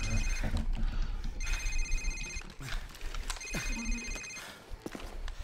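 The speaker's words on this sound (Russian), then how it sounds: "Сэр, это его сотовый. Телефон, возьмите телефон." A cell phone rings in the video game Call of Duty 4: Modern Warfare, a repeated electronic ringtone in two bursts over game ambience and movement sounds.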